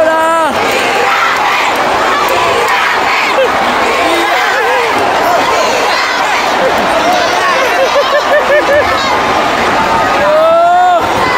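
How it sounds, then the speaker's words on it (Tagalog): A crowd of basketball fans in a gym shouts and yells in a loud, dense roar, with individual cries rising out of the din after a disputed foul call. "At pakinggan natin ang mga sigawan ng mga tao at ng mga fans"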